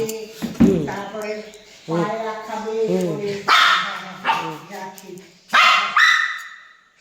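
Dogs bark and yip in short bursts at close range, several sharp barks with whimpering tones between them, around morning feeding time with rice and flatbread.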